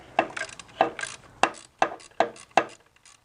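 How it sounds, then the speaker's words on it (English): A ratchet tightening a bolt on a 2001 Nissan Altima engine during timing chain and oil pump work, six crisp clicking bursts of ratcheting in an even rhythm, close and clear with no talk. "Now we can tighten this bolt."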